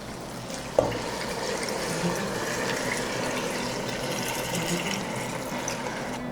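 Homemade mutton yakhni stock pours steadily into basmati rice in a cooking pot for pulao, a continuous liquid rush following one sharp clink at the start, close and alone without speech.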